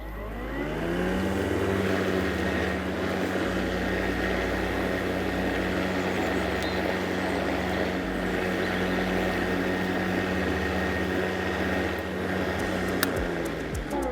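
A Cobra MX4340VX 40V lithium-ion battery lawn mower spins up and runs while mowing, giving a steady, close whir with a constant motor tone that holds evenly to the end.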